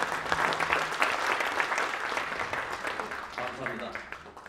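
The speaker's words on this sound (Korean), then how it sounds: "큰 박수 좀 부탁드리겠습니다" An audience at a Korean political party policy forum breaks into loud applause that swells early and gradually thins toward the end, with some voices audible over the clapping.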